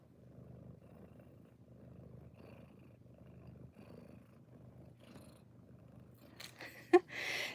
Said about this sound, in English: He's already purring.